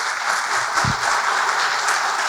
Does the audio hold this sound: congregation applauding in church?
yes